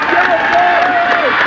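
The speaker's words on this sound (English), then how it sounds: "Listen to the crowd come to life across the way" Crowd cheering at a 1981 high school football game between Bishop Foley and Aquinas in Michigan, a steady roar from the stands with a whistle-like tone rising above it.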